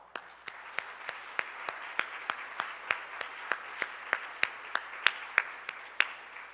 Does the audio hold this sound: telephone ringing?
no